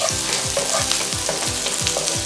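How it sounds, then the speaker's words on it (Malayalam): Green chilli and spring onion sauté in a pan over a high flame, a loud steady sizzle broken by a regular rhythm of spatula scrapes and stirring strokes, with no voices. "നല്ലവണ്ണം വഴറ്റിയെടുക്കുക."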